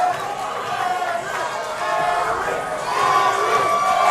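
Loud, dense crowd noise fills a fight venue during Michael McClendon vs Erik Coon, with cheering and shouting from rival fan sections swelling steadily and growing louder toward the end.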